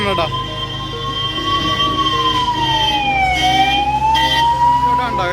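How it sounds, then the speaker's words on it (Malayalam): An ambulance siren wails loudly and close, its pitch rising and falling in long sweeps as it speeds along MG Road through the crowds at Thrissur Pooram, with a vehicle engine rumbling beneath. "ആംബുലൻസ് ഇങ്ങനെ ചീറിപ്പാഞ്ഞു പോകണം"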